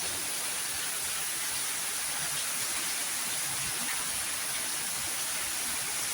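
Heavy rain driven by strong wind, a steady hiss of downpour with no voices.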